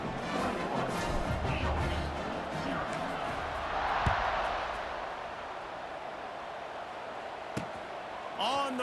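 Home crowd in the College Football 26 video game roars and cheers in a continuous, dense wash, swelling midway, while a play-by-play commentator talks over it.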